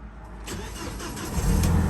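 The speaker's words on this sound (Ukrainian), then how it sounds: "Зараз запускаємо авто." An Audi car engine cranks and catches, then settles into a steady close idle that swells slightly louder after starting.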